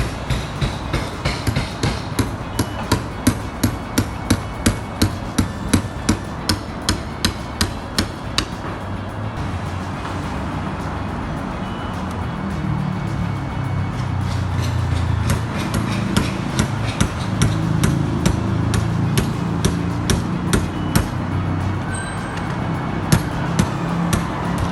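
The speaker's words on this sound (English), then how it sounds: "they were just deconstructing petrol pumps with hammers and a heavy dose of delusion." Hammers strike metal petrol pumps in a loud, fast series of sharp impacts over heavy crowd noise, with the blows thinning out midway and then resuming irregularly.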